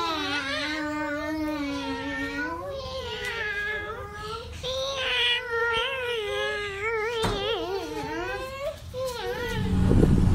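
A voice imitates a cat during a Simon Says game with long wavering meows and yowls, close and continuous, before a brief thump near the end.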